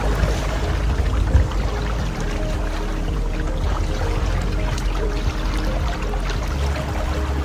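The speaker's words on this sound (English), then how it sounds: "we're going to start with a walk through the water, dragging those arms all the way through." Water sloshing and churning steadily in a shallow pool as a person walks through it with arms dragging, a continuous close swishing wash with no talk.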